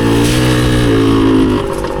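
A 1981 Suzuki DS100 motorcycle engine revs hard and steady in its power band, a loud, close two-stroke whine that holds high before easing off slightly near the end.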